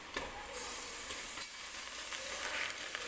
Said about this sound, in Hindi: चिकन को भी हल्का सा तल लेंगे।